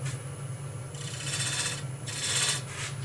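Turning tool cutting into spinning wood on a lathe, a steady raspy scraping that swells in two longer passes over a constant low motor hum, close and fairly quiet with no talk.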